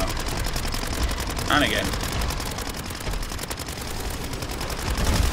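Rapid SMG gunfire in MW3 Zombies, a dense stream of shots from a submachine gun, loud and up close, with a brief spoken remark over it.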